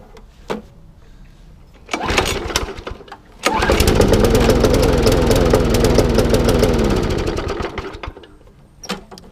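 A Briggs and Stratton lawn mower engine sputters, catches after a couple of pulls, runs loudly for several seconds, then winds down and cuts out.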